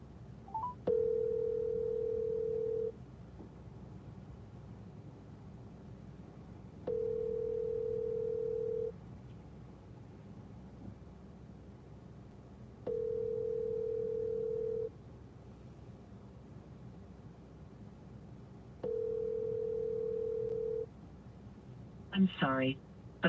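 A phone call rings out from inside a car, with the ringback tone repeating four times as two-second pulses about six seconds apart over a low road hum, ending in a brief burst of sound.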